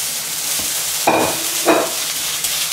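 Minced beef searing in a hot pan on full heat, a loud close sizzle with two brief bursts of stirring or scraping, no talk.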